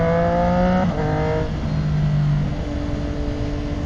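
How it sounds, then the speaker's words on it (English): A car passes a motorcycle rider on the road, its engine tone sweeping and fading beneath the steady roar of wind and the rider's own engine. "We got another car coming there."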